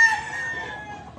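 Jugod Gray gamefowl stag crowing once up close, a loud drawn-out cock-a-doodle-doo that trails off, with no other sounds around it.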